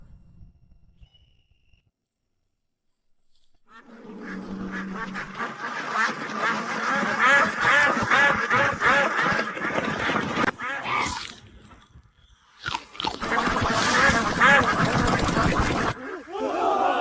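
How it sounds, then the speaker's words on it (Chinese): A large flock of Jiangnan ma ducks quacks in a dense, continuous clamor after a quiet start, briefly dipping before the noisy chorus resumes. "老赵头，把咱们前阵子在侯府农庄孵化的2万只江南麻鸭全放出来。"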